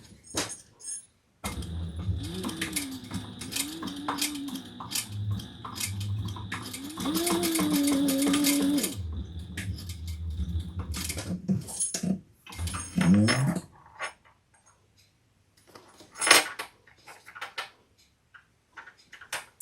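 A sewing machine stitches rows along a bag, running in short bursts with stops between, its motor hum and rapid needle ticking fairly close, with brief handling noises in the pauses.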